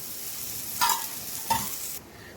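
Browned onions frying in oil give a steady broadband sizzle, with two brief louder bursts of stirring before the sizzle drops away abruptly near the end.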